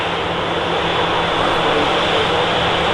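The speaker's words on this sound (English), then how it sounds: "Nice and loud, the 737." A loud Boeing 737 jet at Manchester Airport, a dense, steady roar of engine noise filling the whole moment without letup, close by.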